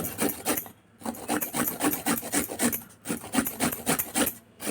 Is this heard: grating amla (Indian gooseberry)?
yes